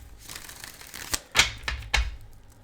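A deck of tarot cards being shuffled in a few quick riffled bursts, close and crisp, with brief pauses between them and no talking.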